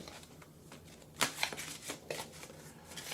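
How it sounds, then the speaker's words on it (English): Oracle cards being shuffled by hand, a run of soft papery riffles and flicks with a couple of sharper snaps near the middle, close and quiet with no talking. "So let's go ahead and shuffle."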